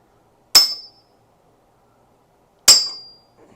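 Two sharp metallic strikes on the oil pump collar of a small block Chevy engine, about two seconds apart, each a bright clang that rings briefly and fades, with quiet between them.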